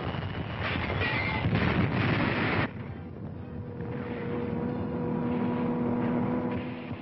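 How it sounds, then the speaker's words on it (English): Archival war footage of a Nazi Stuka dive bomber attacking near the front lines, a loud broad roar of engine and blast that drops abruptly into a lower, steady droning rumble with wind-like noise. "There's a Nazi dive bomber letting one go."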